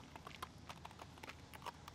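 A horse being led around a feedlot walks with soft, quiet hoofbeats in an irregular walking rhythm, faint and nearby, without talk.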